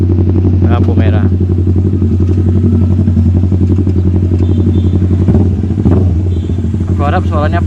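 A carbureted Kawasaki Ninja with a large SC Project exhaust idles at a red light with a deep, steady, throbbing rumble, while a rider talks over it.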